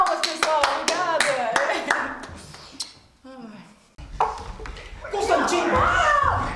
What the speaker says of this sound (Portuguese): Palmas, pessoal.